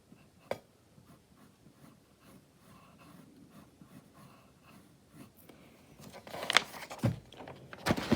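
A pencil scratches lightly across paper in short strokes during an arts and crafts session, faint and close, growing into louder, quicker scribbling toward the end.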